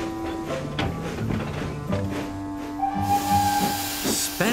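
Cartoon steam engine puffs and hisses in soft rhythmic chuffs under light background music, ending in a brighter whistle-like tone; no talking.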